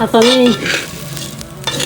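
Rice frying in oil with onion and salt gives a brief close sizzle with stirring scrapes, following a short burst of speech.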